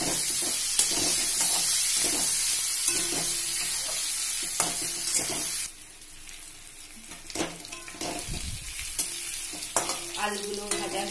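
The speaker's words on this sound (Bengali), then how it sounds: "এরপর আলুগুলো একটু ভেজে নেব, লবণ দেওয়া আছে আলুতে, একটু অল্প হলুদ দিয়েছিলাম।" Potatoes seasoned with salt and turmeric fry in hot oil for an echor chingri (green jackfruit and prawn) dish, giving a steady close sizzle broken by repeated scraping stir strokes and a brief splash of running water, with no talking.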